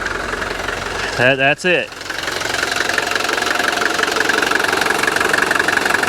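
A 1983 Mercedes 240D diesel idles close by with a steady, clattering knock, briefly interrupted by a short spoken phrase, then continuing evenly.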